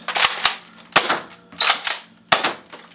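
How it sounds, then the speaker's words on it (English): Sharp snapping shots from a modded X-Shot Vigilante toy foam dart blaster firing half darts, about five distinct cracks spaced irregularly, close and loud with quiet gaps between them. "you can fire 1 half dart through here. Does need to be shoved down a little bit, and then you can still fire your regular darts"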